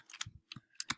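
Quiet, close taps on a computer keyboard as a web address is typed, a few quick irregular keystrokes in small clusters with brief pauses between them.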